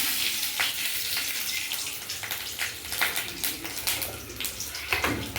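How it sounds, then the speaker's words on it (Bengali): Nigella seeds and a green chili hit hot mustard oil in a pan, producing a dense, crackling sizzle with scattered pops, steady and close throughout. "তেলটা গরম হয়ে গেছে একটু কালো জিরে ফোড়ন দিয়ে দিচ্ছি আর একটা কাঁচা লঙ্কা"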